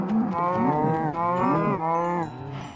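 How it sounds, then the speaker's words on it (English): Several cows moo in the Minecraft video game, loud, close repeated bellows in quick succession with no talk over them. "So this could be like 200-ish cows."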